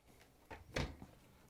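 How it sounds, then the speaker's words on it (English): Washing machine door on a Whirlpool, KitchenAid or Maytag unit being closed after the door screws are fitted, heard as a soft thud with a brief rattle at close range and no talk. "Once you have all the screws in, we can close the door."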